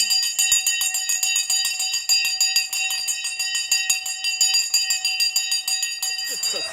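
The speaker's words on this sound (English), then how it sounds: "let's ring the bell" A bell rings to open a live stock market show, with rapid, continuous metallic ringing that stays loud and close, the repeated strikes pulsing without a pause.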